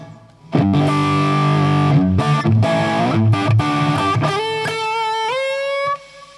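Dry, distorted electric guitar through a Two Notes Genome amp plug-in with no delay, chunky chords and sustained notes rising into a singing lead line before cutting off abruptly.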